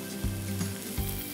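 Vegetables for stuffed zucchini sizzling on a grill with tomato and coriander, a steady close frying hiss with soft scraping taps, brief and without talk.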